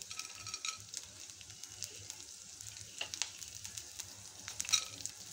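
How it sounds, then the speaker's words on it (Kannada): Urad dal frying in hot oil in a pan, a soft, steady crackling sizzle with scattered sharp pops and light stirring scrapes, fairly quiet and close, with no voices. "ಈಗ ಇದೊಂಚೂರು ಒಳ್ಳೆ ಫ್ರೈ ಆಗಬೇಕು, ಉದ್ದಿನ ಬೇಳೆ ಒಂಚೂರು ಕಲರ್ ಚೇಂಜ್ ಆಗಬೇಕು"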